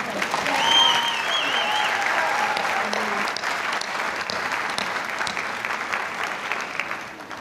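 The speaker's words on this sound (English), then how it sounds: "Let's hear some applause for these folks" Sustained applause from a commencement crowd at Chabot College honoring college staff, steady dense clapping with faint voices mixed in, continuing for several seconds.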